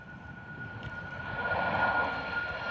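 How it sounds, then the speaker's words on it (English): An airliner taking off at Bristol Airport in a heavy crosswind, a distant engine roar that slowly swells over a couple of seconds, with a faint steady whine above it. "They are rotating quite early because of that very heavy crosswind."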